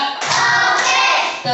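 Primary school pupils in a classroom clap together in a short, loud burst of many hands at once, a brief group clap lasting about a second, close and without talk.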